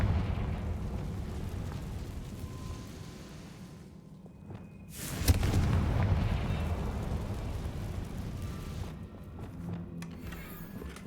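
A Confringo fire-blast spell bursts in Hogwarts Legacy, a sudden heavy whoosh and boom that swells into a long rumbling roar and slowly fades against a low game ambience.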